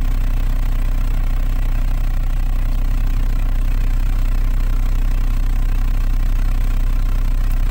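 A 1990s Honda SiR car engine idles steadily and loudly up close, a constant low rumble with slight vibration and no voices throughout.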